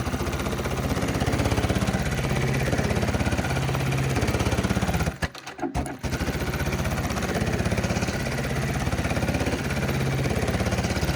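Industrial box-pattern tacker sewing a loop strap for tarps with 138 bonded nylon thread, running as a loud, steady, rapid mechanical chatter that stops briefly midway before resuming at the same pace.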